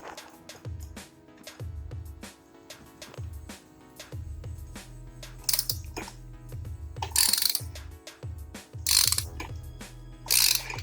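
Ratchet wrench loosening a spark plug on a 2011 Acura TSX, a series of sharp clicking bursts in repeated strokes, close and loud, with occasional brighter metallic rattles and no talk.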